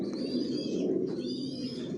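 Racing pigeons in a loft coo in low, soft throaty rolls, a couple of close, overlapping calls over a steady hum, with no talk.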